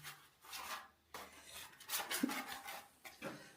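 Leftover filler material gets scraped off a Lambretta GP scooter side panel during bodywork repair, a series of short, close, rasping strokes broken by brief pauses.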